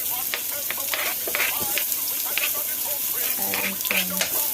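Onions for a Jamaican-style chicken stir fry sizzle and crackle in hot oil while a spatula stirs and taps against the pan, close and continuous.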